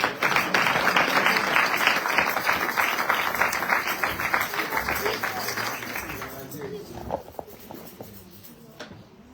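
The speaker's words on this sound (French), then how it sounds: "Est-ce qu'on peut applaudir pour la gloire de Dieu?" Church congregation at a Sunday service applauding, dense clapping that builds then gradually thins and fades out, with scattered claps lingering at the end.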